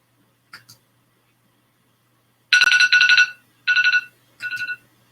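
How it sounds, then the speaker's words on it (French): A phone alarm ringtone plays nearby, a bright electronic melody in three short bursts after a faint initial blip, loud against an otherwise quiet room. "d'après ce que me dit ma sonnerie"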